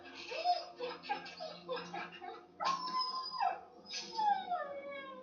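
An injured dog in The Walking Dead Season 2 on PS4 whimpers and whines in several short, rising and falling cries, close and fairly quiet, with brief pauses between them.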